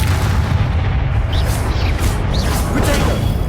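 Spell blasts from the Confringo blasting charm go off in Hogwarts Legacy, a run of booming, crackling bursts over dense, constant battle noise with no pause.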